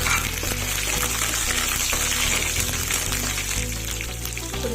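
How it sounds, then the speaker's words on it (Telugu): Curry leaves dropped into hot oil while making a potato dry fry, a dense continuous sizzle and crackle that stays loud and even throughout. "ఇప్పుడు కొద్దిగా కరివేపాకు యాడ్ చేసుకుందాం."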